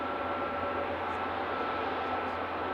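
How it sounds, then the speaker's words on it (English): A Turkish Airlines Airbus A321neo bound for Istanbul takes off at snowy Manchester Airport, heard as a steady, broad jet engine roar at a distance, even in loudness throughout with no voices. "We've got Turkish Airlines about to take off. I'm not going to follow it up the runway. It's an Airbus A321 Neo to Istanbul."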